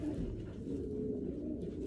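A racing pigeon from a family breeding loft coos softly and continuously, with a low, murmuring rhythm close by and no talking over it.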